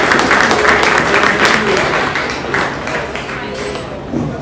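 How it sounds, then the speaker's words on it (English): Crowd applause for youngsters at a commercial pig show: loud, dense clapping that carries on steadily and fades slightly, with voices mixed in. "Let's give our youngsters a big round of applause."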